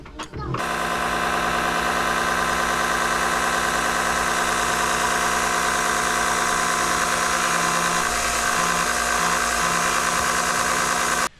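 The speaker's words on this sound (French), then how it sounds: "je vais brancher les cosses de la batterie. Hop, plus moins, pour démarrer la pompe" Battery-powered pump on a sailboat starting up after its battery terminals are connected: an abrupt start into a loud, steady mechanical hum and buzz that runs continuously to the end.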